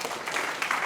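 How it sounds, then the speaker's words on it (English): Brief burst of audience applause for a panel at a health professionals awards ceremony, a short wash of clapping. "let's give a hand of applause to our panel."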